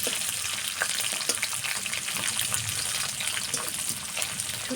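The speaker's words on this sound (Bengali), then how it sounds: "শুটকিটাকে ভালোভাবে ভেজে নেব" Dried tengra fish sizzles in a hot pan, a continuous close crackle of frying oil with scattered pops. Stirring clatters now and then throughout.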